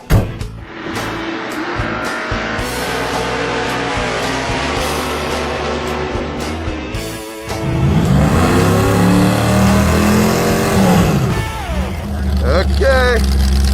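Mazdarati race car launching hard off the line on nitrous, a loud, strained engine roar that swells and holds high revs, with a brief drop near the middle before surging again under excited talk.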